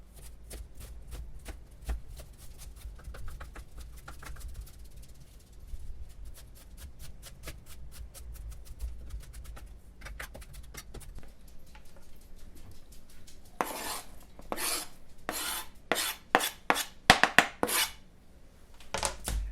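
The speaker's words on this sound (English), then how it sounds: "I am going to show you just how fast I am at chopping onions" A knife taps rapidly on a cutting board chopping onions in bursts, quickening into loud, sharp chops near the end, with no voices.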